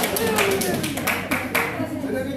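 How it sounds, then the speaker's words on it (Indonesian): Schoolchildren in a classroom clap for a classmate: a quick burst of brisk, uneven hand claps mixed with children's voices and chatter. "Tepuk tangan buat temannya"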